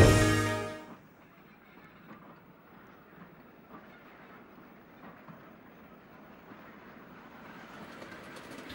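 A model railway train on the Copenhagen Fields layout clatters along steadily with faint clickety-clack rhythm, quiet and somewhat distant, after a brief loud burst at the start.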